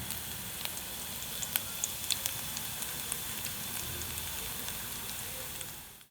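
Onions frying in a pan for Malvani fish curry, a soft continuous sizzle with scattered small pops and crackles, close and fairly quiet, fading out at the end.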